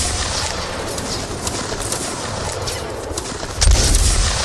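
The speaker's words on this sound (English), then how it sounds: "I'm just going to fire into the mass of people." Dense gunfire crackles in a Mount & Blade siege battle, a continuous fusillade of overlapping musket-style shots with a heavier boom near the end, loud and sustained throughout.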